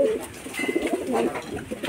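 Madras and Giribaz pigeons in a Kolkata loft give short, throaty coos, a few overlapping calls close by over a couple of seconds, with no talking.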